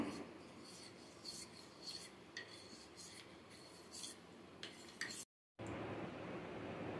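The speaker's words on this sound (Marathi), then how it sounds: "आता त्याच्यामध्ये आपण पाव कपभर कोमट दूध घालूया आणि छान मिक्स करून घेऊया" A spoon scraping and stirring vanilla custard powder into lukewarm milk in a bowl, steady rasping strokes in a quiet kitchen, close and soft.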